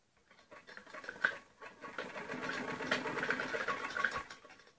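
Sewing machine stitching elastic onto a trouser waistband, a steady close whirring run that builds after a brief start, with small clicks and rattles over the motor.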